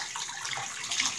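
Hot water runs into a bath at bath time for a baby, a soft, steady splashing hiss with a few brighter spatters and no one talking over it.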